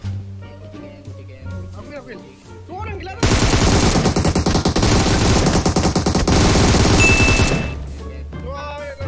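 Rapid automatic gunfire from a shooter video game rattles loudly and continuously for several seconds, surrounded by players talking excitedly before and after the burst.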